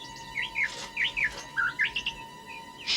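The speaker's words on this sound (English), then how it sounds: "Shut up, you rotten bird." A songbird chirps and whistles in quick, bright repeated phrases close by, over a steady background hum and with no talking.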